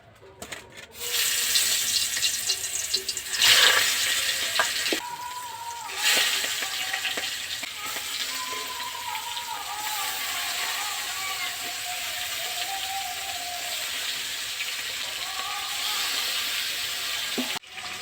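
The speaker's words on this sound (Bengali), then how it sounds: "মাছগুলো আগে ভেজে নিই।" Fish seasoned with salt and turmeric sizzling in hot oil in a home kitchen, a steady broad hiss running almost the whole time with occasional clatter and scraping of utensils near the start.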